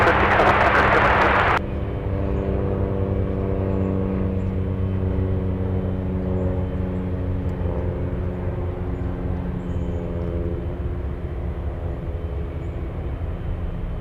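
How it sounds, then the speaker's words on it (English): Jet engines spooling up at an airport, a steady deep roar with layered whining tones that holds for the whole stretch, heard from a distance after a brief burst of broadband noise at the start. "we have GE90s starting up"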